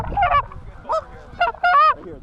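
A flock of geese calls while flying in over a Minnesota hunt, a few sharp, nasal honks in irregular bursts, fairly close and clear against a quiet, low background rumble.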